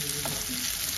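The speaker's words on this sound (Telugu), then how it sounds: "ఇప్పుడు ఈ కాసరకాయలన్నిటినీ ఆయిల్లో బాగా మగ్గించుకుందాం ఒక 3 నిమిషాలు." Spiny gourds frying in oil, a brief continuous sizzle close by with no voices.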